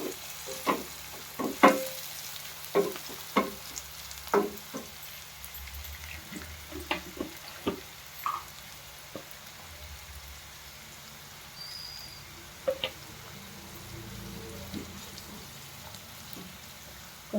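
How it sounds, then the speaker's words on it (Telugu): Onions and green chillies frying in a pan toward browning, with a soft continuous sizzle broken by scattered sharp clicks and taps of utensils, fairly quiet and with no speech. "ఉల్లిపాయలు వేసిన తర్వాత పచ్చిమిర్చి, ఇది కొంచెం బ్రౌన్ కలర్ వచ్చే వరకు వేయించుకోవాలి."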